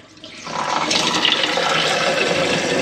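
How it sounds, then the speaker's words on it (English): Water rushes from a radiator valve pipe fitting into a bucket, starting with a quiet trickle and quickly swelling into a loud, steady gushing stream. "that'll drain the water out"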